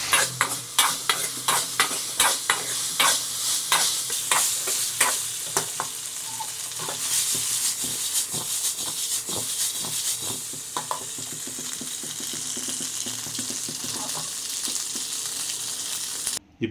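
Chicken 65 pieces frying in a hot pan with soy sauce, stirred steadily with a utensil that scrapes and clicks against the pan over a continuous loud sizzle, with no talking.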